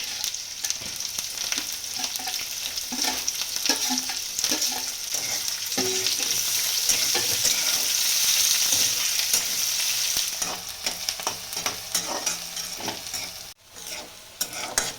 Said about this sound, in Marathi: कांदा चांगला आता गुलाबी रंगावर भाजला आपला.